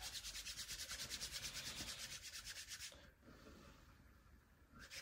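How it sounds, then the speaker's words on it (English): Oiled palms rubbed together in a steady, brisk back-and-forth rhythm for about three seconds, close and soft, then a quieter lingering rustle of the hands as the motion slows. "Rub your hands together. Get that oil worked up."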